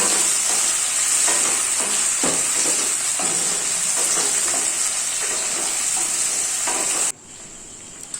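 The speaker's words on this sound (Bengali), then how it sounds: "টমেটো আর পেঁয়াজগুলোকে ভালো করে ভেজে নিতে হবে।" Chopped tomatoes and onions frying in a pan for chicken curry, a steady close hiss of sizzling with repeated scraping stirs, then cutting off sharply near the end, leaving only faint sounds.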